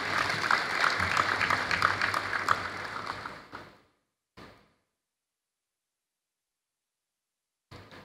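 An audience at a blockchain conference claps densely as a speaker walks to the stage, a steady crackling burst that fades out after a few seconds and ends in silence, with a brief faint patter afterward.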